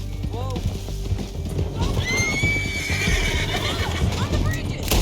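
In the Red Dead Redemption 2 video game, a horse whinnies loudly amid clip-clopping hooves and a busy mix of game sounds, with people talking over it.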